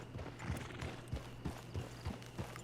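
Horse hooves clip-clop at a walking pace in the Red Dead Online video game, a faint, steady rhythm of soft hoof thuds about every quarter second, with no talking.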